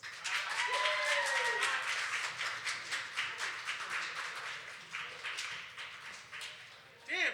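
Poetry slam audience applause fills the room with steady, dense clapping at moderate volume, tapering slightly before a brief louder swell at the end.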